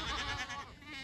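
Goats bleating on a farm pasture being moved into a yard, a dense overlapping chorus of nearby calls filling the whole second.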